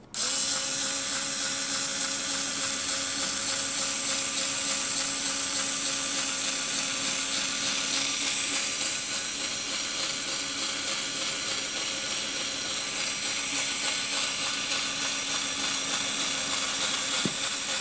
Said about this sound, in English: Oh, gotta turn the drill on first, Katie.